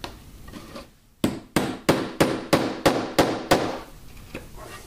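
Nozzle mix is rammed into a sugar-free rocket motor tube with eight sharp, evenly spaced hammer blows, loud and close, against low background noise.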